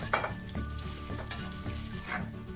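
Squid balls fry in hot oil for chicken lomi, giving a close, steady sizzle with soft bubbling, a few light metallic clinks of a utensil against the pan, and no talking.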